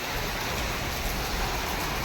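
Rain falling outdoors beside a house, a dense steady hiss that is loud and unbroken throughout the short stretch, with no voices over it.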